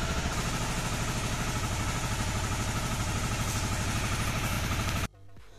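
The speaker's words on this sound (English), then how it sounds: "The sound of the engine seems a little smoother" A Honda CBR 250 motorcycle engine runs steadily after a fresh oil change, a loud, even, rapid throbbing pulse close by that cuts off abruptly near the end, leaving quiet background.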